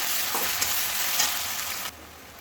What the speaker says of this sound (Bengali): পেঁয়াজটা ভালো ভেজে নেবো